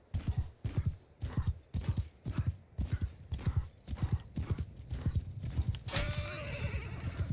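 Galloping hooves from a horse in the video game Mount and Blade II: Bannerlord drum in a steady, even rhythm, then a shrill neigh cuts through at the end.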